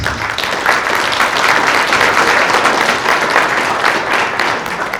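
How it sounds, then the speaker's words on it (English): Steady, full audience applause at a youth empowerment gala, many hands clapping continuously at close range with no break. "Please give him a round of applause."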